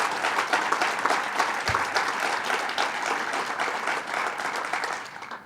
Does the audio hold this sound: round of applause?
yes